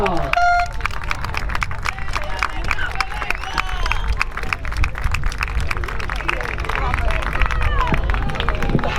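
Crowd applause and cheering at the finish of a traineira rowing regatta in O Grove, Galicia, with dense clapping and excited shouts under an ongoing hubbub of voices close by.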